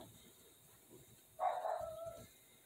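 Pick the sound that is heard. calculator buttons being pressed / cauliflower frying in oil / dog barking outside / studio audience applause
dog barking outside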